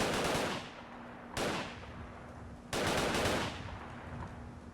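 Three loud, sharp pipe pistol shots from Fallout 4, each with a long reverberant decay and well spaced apart, with a steady low hum running underneath.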